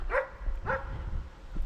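A dog barks twice outdoors, two short mid-pitched woofs about half a second apart, moderately near, over a low wind-like rumble and faint ambient noise.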